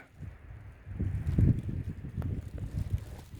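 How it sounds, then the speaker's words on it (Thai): Strong wind gusting around a house during heavy rain, a rough low rumble of buffeting against the microphone that swells and surges without pause. "ลมแรงอยู่นะ"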